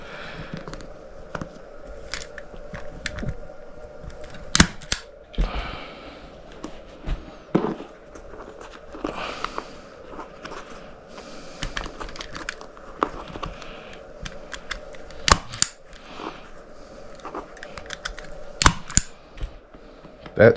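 A staple gun fires staples through a Freego X2 dirt bike seat cover, making sharp, scattered clacks with uneven gaps over a quiet background.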